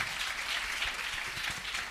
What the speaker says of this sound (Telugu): प्रभु के लिए जोरदार ताली बजाएं.